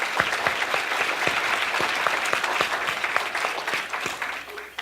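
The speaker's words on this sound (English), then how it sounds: "let's give a round of applause and a big thanks to Pat Sheehy" An audience at a county budget meeting gives sustained applause, a steady wash of claps with some individual sharp hits, holding throughout with little talk over it.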